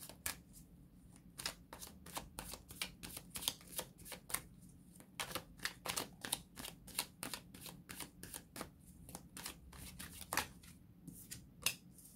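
Tarot cards being shuffled over and over, a rapid run of crisp riffling snaps and slaps close by, with brief pauses between bursts.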